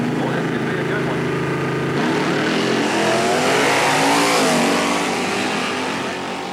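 Drag race cars, including Steve Heflin's Ford Mustang from Heflin Racing of Poco, Oklahoma, roar off the line at Centerville Dragway in 2000, with loud sustained engine howl rising through the run under an announcer's voice.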